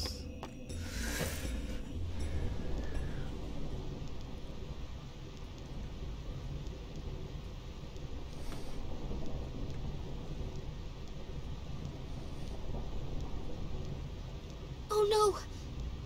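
Rain and thunder on the Thunder Plains in Final Fantasy X make a steady, dense wash of rainfall with low rumbling underneath, continuous and moderately loud, with a brief sharp burst near the end.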